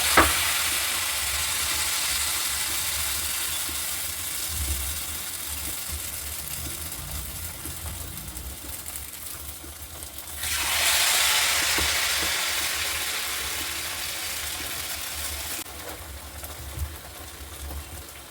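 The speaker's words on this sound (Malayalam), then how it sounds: "ഇനി നമുക്ക് ഓരോ പീസ് ഇതുപോലെ നമ്മൾ ഉണ്ടാക്കി വെച്ചിരിക്കുന്ന മാവിലൊന്ന് മുക്കി കൊടുത്ത് പാനിലേക്ക് ഇട്ട് കൊടുക്കാം." Batter-dipped ripe banana pieces for Kerala pazham pori drop into hot oil in a pan, giving a steady soft sizzle that swells into a louder, brighter burst of frying midway before settling back; no talking.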